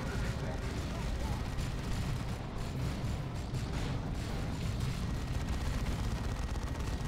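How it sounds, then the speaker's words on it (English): A Terminator assault cannon in Dawn of War 2 rumbles in a continuous dense barrage of rapid booming fire, steady and unbroken, with a voice faintly talking underneath. "Terminators, as you can see, have the assault cannon."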